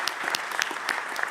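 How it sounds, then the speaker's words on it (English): Brief, dense applause from a conference audience at PGDay Lowlands 2024, a burst of many hands clapping at moderate distance with no talk over it. "So please, an applause for Ed, who made the effort for testing."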